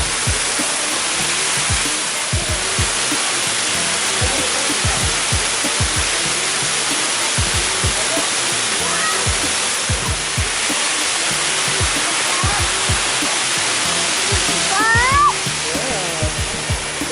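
A waterfall gives a steady, loud, broadband rushing roar that fills the whole stretch without letting up. Faint, brief voice-like sounds rise now and then above the constant wash of water.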